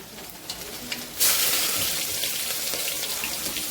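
Chopped onion drops into hot oil in a pan for masala khichdi, bursting into a loud, steady sizzle that continues evenly after a few quieter clinks and taps.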